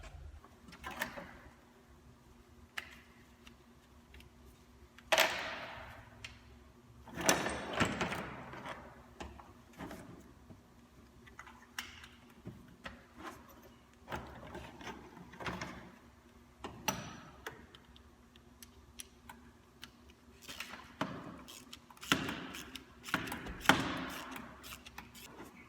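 Spark plugs being worked out of a Ford Triton 3V engine in an F-150, heard as scattered close metallic clicks, ticks and scrapes of tools, in irregular bursts with no talk.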